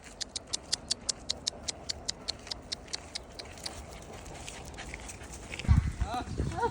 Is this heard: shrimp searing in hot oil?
no